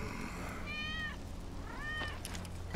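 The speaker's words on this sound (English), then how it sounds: "That's Wedge's cat." A cat meows twice in the Final Fantasy 7 Remake video game, with clear, rising-and-falling cries close by over a steady low game background hum.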